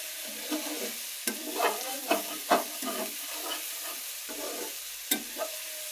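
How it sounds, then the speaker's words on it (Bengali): Okra bhaji being stirred in a pan, with quiet sizzling under irregular scraping strokes of a spatula that stand out as sharp clicks and scrapes over several seconds. "দিয়ে এখন নাড়ি করি"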